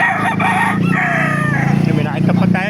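A rooster crows loudly and close by at a busy chicken market in Baliuag, Bulacan, one long drawn-out call with clucking fowl mixed in.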